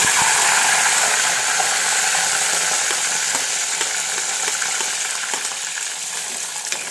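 Curry leaves sizzle and crackle in hot oil, a loud continuous frying hiss with scattered pops that fades slightly toward the end.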